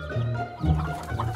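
Cartoon chickens cluck in a low, steady stream with a few louder bursts, close and continuous.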